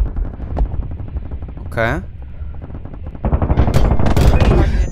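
Rapid bursts from a sci-fi space gun in the space shooter game Boundary crackle loudly near the end, after a zipping effect, with a voice talking over the shooting.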